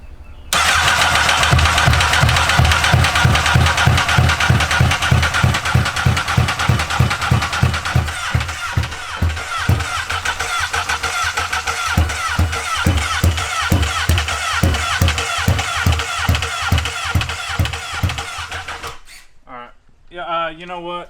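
Honda N600 micro car fitted with a CBR1000RR superbike engine cranks in a long, steady run of rapid rhythmic chugs, loud and near, without catching, before the starter cuts off and brief voices follow.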